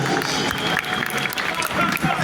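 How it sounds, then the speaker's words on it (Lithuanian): Concert audience applauding after a song, a dense, steady wash of many hands clapping throughout, with crowd noise mixed in. "Didžiausi plojimai man."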